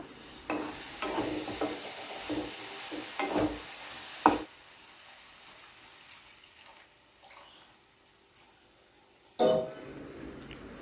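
Water splashes into a pan of drumstick and potato curry with a brief sizzle, followed by scraping stirs and clinks of a spoon against metal, with quieter gaps between.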